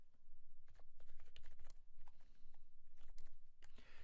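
Typing on a computer keyboard in a quiet dark room, a soft, close run of key clicks in short bursts with brief pauses.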